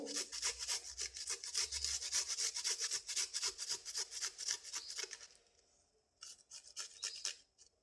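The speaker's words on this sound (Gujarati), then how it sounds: "પછી આપણે આમાં આદુ હે ખમણી નાખશું." Fresh ginger being grated for Gujarati muthiya dhokla, a close, rhythmic series of raspy scraping strokes that pauses briefly near the end before resuming.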